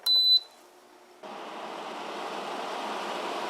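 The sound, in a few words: air conditioner running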